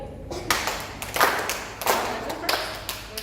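Grade 3 students clapping a rhythm together as body percussion, a group of sharp claps in a regular pattern with slight spread between hands, fairly close in a room.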